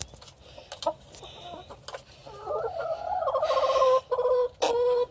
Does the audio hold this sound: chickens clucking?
yes